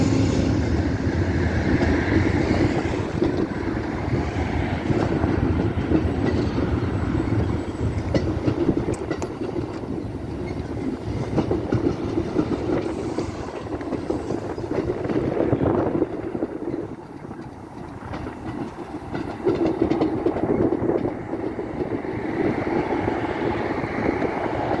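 A train hauled by two locomotives rumbles past, a long continuous roar of wheels and engines with wind buffeting the microphone throughout.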